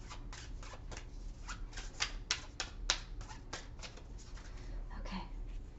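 Animal oracle cards are handled and shuffled, a quiet run of soft riffling slaps and flicks in close, uneven bursts with no talking.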